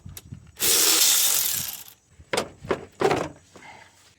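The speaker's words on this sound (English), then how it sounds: "Remove this 10mm bolt." Ratchet wrench loosening a 10mm bolt on the clamp and mass airflow sensor of a 2003–2012 Honda Accord 2.4L engine, a long steady rasp of clicking followed by several short ratcheting bursts, close and loud, no talking.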